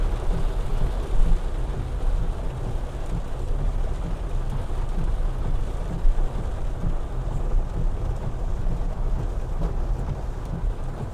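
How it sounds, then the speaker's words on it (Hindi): Heavy rain drums steadily on a Honda Accord during a downpour in Bangalore, heard from inside the car as a dense, continuous low roar with no pauses. "इतना अच्छा बारिश पड़ रहा है।"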